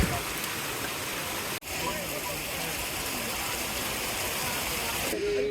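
A mountain waterfall on the trek route from Govindghat toward Govind Dham pours with a loud, close, continuous broadband rush that stays steady throughout, apart from a momentary dropout.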